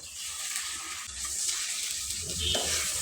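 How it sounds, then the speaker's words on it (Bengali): Onions stirred and frying in oil in a pan, a soft steady sizzle with occasional scraping stir noises, moderately close and with no talking. "এখন আমি আরেকটু তেল দিয়ে তার মধ্যে পেঁয়াজ দিয়ে দেব। পেঁয়াজটাকে একটু হালকা নাড়াচাড়া দিয়ে ভেজে"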